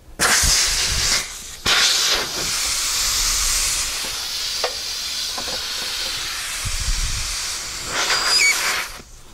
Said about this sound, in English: I'm gonna remove the air hose and quickly put the valve core back in.